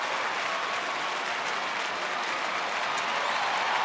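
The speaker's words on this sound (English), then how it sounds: "this crowd getting into it, supporting Neil Cox and the Rangers." A large baseball stadium crowd at a Rangers home game against the Angels claps and cheers steadily with the bases loaded, a dense continuous wash of applause at even loudness throughout.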